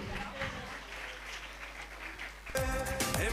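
A crowd claps at an Independence Day talent show prize-giving, muffled at first, then the applause swells louder and fuller near the end.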